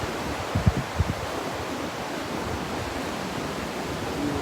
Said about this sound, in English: And the ocean is really the star of these videos.